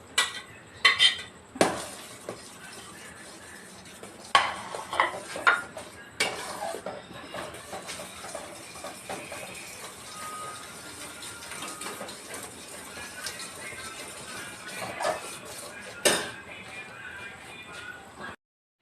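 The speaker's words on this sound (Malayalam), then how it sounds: "അതിലേക്ക് നമ്മൾ വറുത്ത് കോരി വെച്ചിരിക്കുന്ന പാവയ്ക്ക ചേർക്കുകയാണ് കേട്ടോ" Fried bitter gourd is stirred in jaggery syrup in a pan for a sweet payasam, with irregular metallic clanks and scrapes of the spoon against the pan, loud at times and quieter in between.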